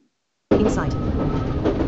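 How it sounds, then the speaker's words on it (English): Train rolls on rails in the TWS train simulator game, starting abruptly and holding a steady loud rumble with brief higher squeals near the start. "Standing at the front of the train, as you can hear. This train is about to depart."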